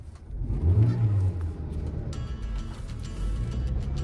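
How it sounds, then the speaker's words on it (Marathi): A car's engine revs and rumbles as it is driven through a blocked, obstructed road, a rising low whir near the start settling into steady close engine noise, with no talk. "अशा प्रकारे अडथळीच्या रस्त्यातून काढलेला आहे गाडी."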